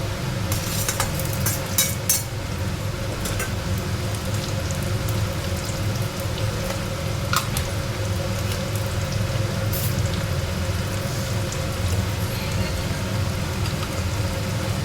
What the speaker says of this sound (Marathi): आता त्यामध्ये मी टाकणार आहे हे कापलेलं टॅमॅटो